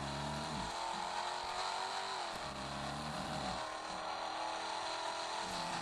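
A synthetic-sounding car engine hums steadily with occasional shifts in pitch, fairly quiet and continuous, with no voices.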